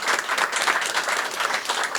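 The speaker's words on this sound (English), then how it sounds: "So I would just like a big round of applause for our very great staff here." An indoor audience at a TrueLens Community Media ribbon cutting applauds the staff, with many hands clapping in a dense, continuous roar that stays loud and steady throughout.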